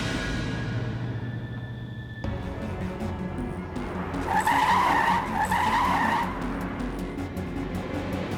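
A car tears away on a road, its tires skidding and squealing loudly for a couple of seconds over steady engine and traffic noise, with no talking.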